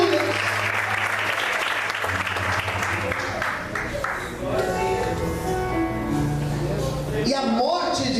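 A church congregation applauding during a Sunday morning service, a dense, loud, sustained wash of clapping from many hands, with voices and music rising beneath it toward the end.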